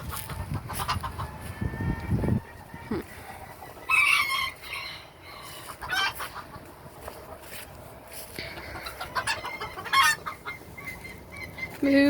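Chickens cluck in short bursts with a rooster crowing loudly at intervals, close by, with little else around them.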